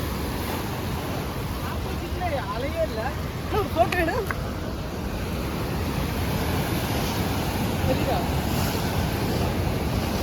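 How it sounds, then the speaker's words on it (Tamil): River water released through an opened gate rushes forcefully past a fishing spot on a riverbank, a broad continuous roar mixed with wind buffeting the microphone, with people talking briefly over it. "அங்கே பாருங்கள் தண்ணி எவ்வளோ ஃபோர்ஸாக வந்து ஓப்பன் பண்ணி விட்ருக்காங்கன்னு"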